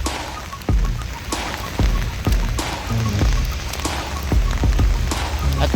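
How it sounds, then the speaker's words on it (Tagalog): Heavy rain in the UAE pours steadily, a dense close hiss broken by dull thumps of drops striking something nearby. No one speaks. "Grabe nang umuulan."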